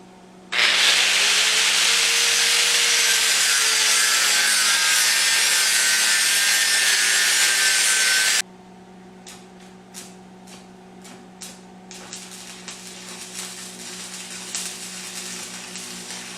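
Steel cable being cut into sections in a knifemaking shop: a loud, steady grinding cut runs for about eight seconds, then stops, leaving quieter scattered shop clatter and knocks.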